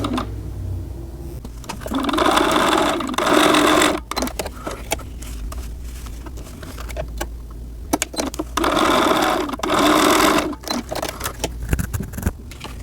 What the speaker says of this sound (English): Now I will sew very close to that seam, but right next to it.